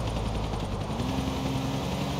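Helicopter flying in the video game GTA 4, a steady loud rotor and engine drone with a sustained whine holding through the short stretch, no voices over it.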